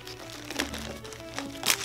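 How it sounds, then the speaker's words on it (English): Crinkling plastic and paper packaging around a fantasy lace-front cosplay wig being unwrapped, with several sharp crackles and rustles close by over a steady low hum. "Let's unwrap it now."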